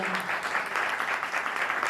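A congregation at a thanksgiving worship service claps for the dholak drummer, a steady pulsing patter of hands, moderately loud and without talk.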